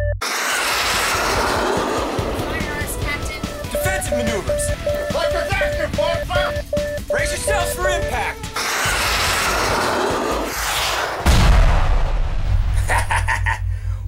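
Spaceship weapons fire in an animated space battle, with dense rumbling blasts and bright electronic tones, heavy booms later on, and voices speaking over parts of the barrage.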